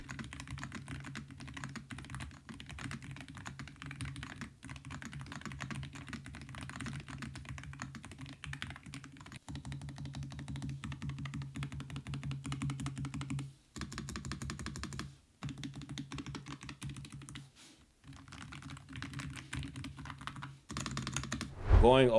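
Typing on a low-profile Hall effect keyboard gives a dense, steady run of quick clacking keystrokes, close and fairly loud, lasting throughout with a few brief pauses and a heavier thunk near the end.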